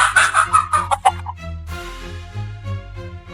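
A rooster lets out a loud, close crow that rises and breaks into choppy clucking notes, followed by quieter lingering tones with a low hum underneath.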